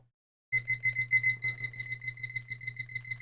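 A microwave oven beeping, a single clean electronic tone starting abruptly after brief silence and pulsing rapidly in a steady rhythm, close and fairly loud.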